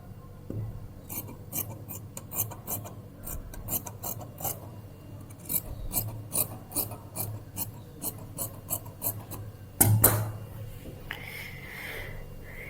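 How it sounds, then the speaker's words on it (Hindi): Scissors snip through a fabric strip for a short kurti, a series of close, crisp rasping cuts in a steady rhythm, with a sharper thump near the end. "सेम पट्टी एक और कट करनी है"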